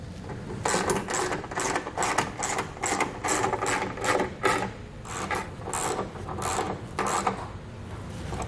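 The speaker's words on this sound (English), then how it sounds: "we can actually grab our socket and snug them all down" A hand socket ratchet clicks in quick repeated bursts while snugging down running board mounting bolts on a 2020 Chevrolet Silverado, close and steady with short pauses between runs.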